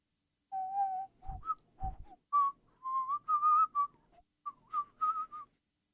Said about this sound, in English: some kind of little whistling sort of a tone